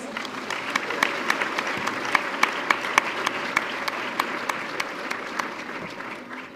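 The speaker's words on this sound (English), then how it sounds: "A big round of applause for our friends." A crowd applauds steadily, a dense patter of clapping with a few sharper claps standing out, fading slightly toward the end.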